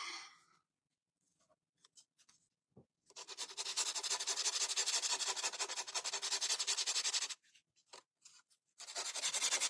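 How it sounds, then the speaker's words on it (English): Sandpaper rubbing steadily across the wood of a barn craft kit, a long continuous scratchy stretch after a few brief strokes, then another burst of sanding at the end. "Let's do some sanding"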